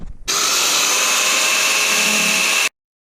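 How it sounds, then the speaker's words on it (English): An angle grinder with a cutoff blade cuts a square hole in the metal roof of a school bus conversion, a loud, steady, high-pitched whine held for about two and a half seconds before it stops abruptly. "I got an angle grinder and I'm gonna use the cutoff blade to cut this square out"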